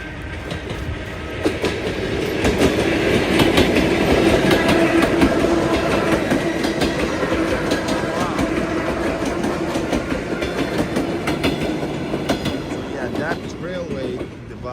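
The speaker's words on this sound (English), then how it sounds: "Oh, train coming by." A train rumbles past close by in a Russian neighbourhood with steady rolling and rhythmic clacking of wheels, loud and continuous, with voices now and then.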